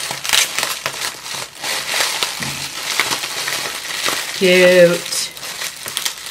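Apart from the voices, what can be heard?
unwrapping a heavily taped mail package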